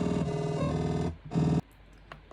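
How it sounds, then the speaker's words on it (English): A buzzy digital bass synthesizer tone in imperfect sine wave mode plays in two sustained bursts separated by a short gap, then cuts to near silence with faint clicks. "this is sine wave mode, and as you can tell, it's not a perfect sine wave"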